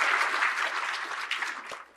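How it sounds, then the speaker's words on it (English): A convention audience at the Truck Loggers Association in Vancouver breaks into dense, sustained applause, a steady wash of clapping hands that tapers off at the end. "you give Jack a big round of applause and appreciation"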